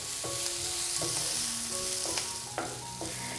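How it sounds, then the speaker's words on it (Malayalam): Tomatoes and onions sauté in a pan over a high flame for macaroni, with a steady crackling sizzle broken by several stirring scrapes and clinks of the spoon, close and moderately loud. "തക്കാളി നന്നായിട്ടൊന്ന് വഴണ്ടി കിട്ടുന്നവരെ വീണ്ടും 1 മിനിറ്റ് ഹൈ ഫ്ലെയിമിൽ വെച്ചിട്ട് നല്ലതുപോലെ അത് വഴറ്റിയെടുക്കാം"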